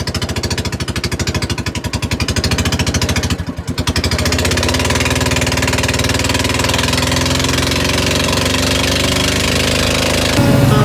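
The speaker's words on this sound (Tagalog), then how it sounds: "Kasi maingay po yung sampan pag umandar na." A motorized sampan boat's engine runs loud and close, a constant hard rapid chugging with a brief dip near the start and a rougher burst at the end.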